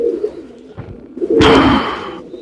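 Pigeons at a pigeon farm, including a prized colour variety, give a few soft low coos followed by a louder burst of cooing and wing flutter close by.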